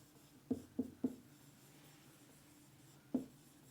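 Chalk or marker tapping and scraping on a classroom board, four short distinct strokes in a quiet room with no talking, three in quick succession and one a little later.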